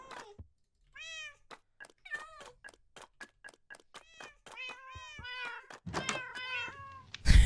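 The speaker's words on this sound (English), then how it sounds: "There's so many cats in here." A crowd of cats in the video game Minecraft meow over and over, dozens of short, overlapping mews in quick succession, close and clear, ending in a louder, denser cluster of cries.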